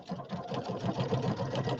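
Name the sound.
quilting machine sewing a quilt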